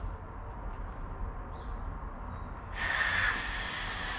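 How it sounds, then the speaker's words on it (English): After a few seconds of low background rumble, a steady close hiss of an aerosol spray starts and continues to the end, spraying a Volkswagen Corrado headliner from the top down. "we're just going to sort of spray from the top down, I think."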